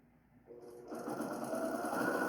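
Sewing machine stitching fabric strips together for a Halloween quilt runner with a quarter-inch seam, starting softly then running at a steady, close, continuous whir with a fine rapid needle rhythm.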